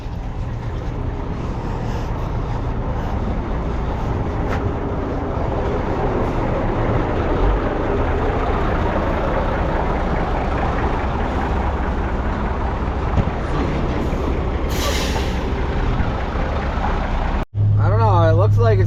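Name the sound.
truck engine left running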